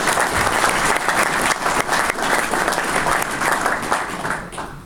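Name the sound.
audience applause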